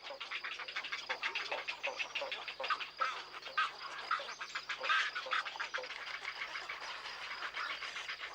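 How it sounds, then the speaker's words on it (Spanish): A noisy breeding colony of spoonbills, herons and egrets in Doñana's wetland trees keeps up a dense, continuous chatter of calls and clacks at moderate distance, with no voices over it. "En esta ruidosa colonia de cría anidan cerca de 400 parejas de espátulas, 100 parejas de garzas reales, 800 de garcetas"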